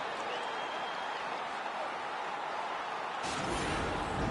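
Arena crowd at a UFC fight cheering and applauding after a knockdown punch, a dense, steady roar of noise that swells louder near the end.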